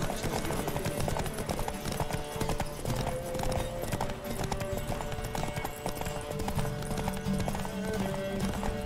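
Horse galloping in Witcher 3, a steady rapid clip-clop of hooves running throughout, loud and continuous over a dense game soundtrack and ambient noise.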